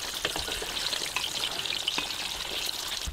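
Food drops into a pan of hot fat and sizzles with a steady crackling fry, close and continuous, with small popping bursts throughout and no talk.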